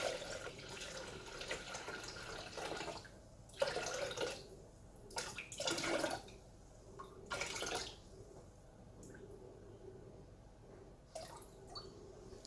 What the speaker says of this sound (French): Et là, je complète avec de l'eau jusqu'à 1 litre.